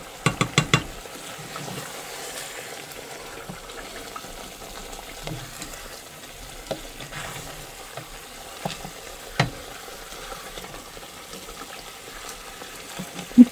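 Chicken leg pieces with salt and spices frying in a pan, a soft steady sizzle with a few sharp clatters of stirring near the start and scattered clinks later, fairly faint overall and free of voices.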